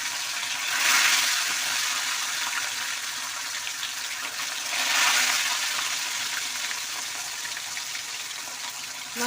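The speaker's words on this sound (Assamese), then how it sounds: "এতিয়া দিম মই মাছ তেলত।" Fish rubbed with salt and turmeric sizzles in hot oil, a loud continuous hiss close by that swells twice into stronger bursts of crackling, with no talk.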